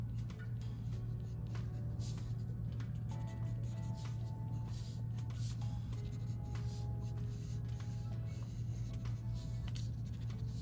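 Pencil drawing lips on paper for a self-portrait: soft continuous scratching and rubbing strokes, close and faint, over a steady low background hum.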